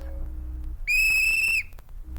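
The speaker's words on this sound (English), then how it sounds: "Does it sound like a whistle to you?" A single sustained whistle, clear and steady, lasting under a second, with quiet background before and after.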